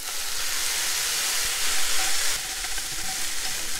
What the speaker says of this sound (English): at the very end, I'm gonna put in a little bit of soy sauce